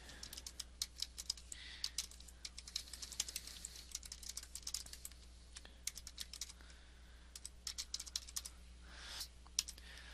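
Rapid, irregular keyboard typing clicks close by, a steady stream of light taps with brief pauses over a low background hum.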